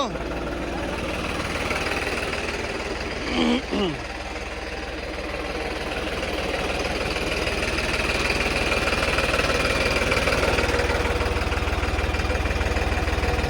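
A New Holland 5620 tractor engine runs steadily nearby, a loud, continuous low diesel chug with a rhythmic knocking pulse, while a voice speaks briefly over it.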